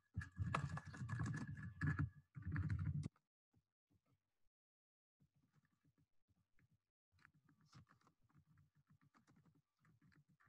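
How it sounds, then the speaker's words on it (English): Quiet, irregular keystrokes on a computer keyboard, soft close clicks in short bursts following a brief loud rustling noise at the start. "just typing them out right now."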